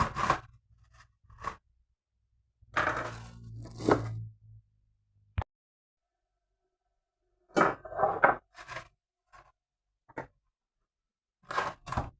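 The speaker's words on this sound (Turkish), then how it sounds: "Şunu da bir keseyim de tencereye aktarıvereyim." Scattered crunchy cutting strokes come in short bursts with gaps of quiet, close up, along with a single sharp knock partway through.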